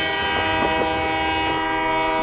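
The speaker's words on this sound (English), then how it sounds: "the sound of the train whistle is like a lullaby at night" A loud, sustained train whistle blares steadily over the low rumble of a moving train.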